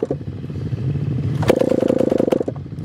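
A Husqvarna motorcycle engine idles low, then jumps into a loud, steady, high rev with a rapid pulsing throb for about a second before easing off, close by.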